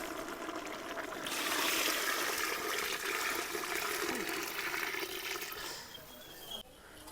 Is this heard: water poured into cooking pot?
yes